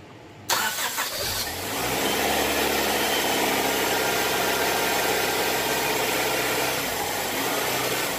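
A car engine, one with a fluctuating idle, cranks briefly and fires up after a short moment of quiet, then settles into a steady, loud, close idle that runs to the end.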